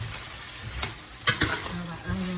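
Onions sizzling in a frying pan as they break apart for fried potatoes, with a few sharp utensil scrapes and stirring knocks over a steady hiss, close and alone.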